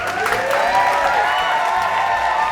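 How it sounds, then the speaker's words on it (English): A studio crowd applauds steadily, a dense wash of clapping and some cheering with no talking over it. "Can we get a little more applause?"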